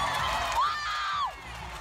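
A crowd cheers and whoops at the 2018 Invictus Games long jump in Sydney, one loud rising shout standing out above the crowd noise in a short burst.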